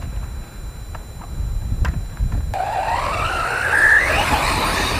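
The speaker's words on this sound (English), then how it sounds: "Way easier to drive this buggy now" An Arrma Typhon RC buggy drives over rough ground with a few sharp clicks, then its tires skid and its motor whines up in a rising squeal, fairly close and with no talk.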